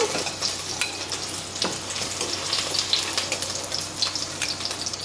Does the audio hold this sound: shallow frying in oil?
yes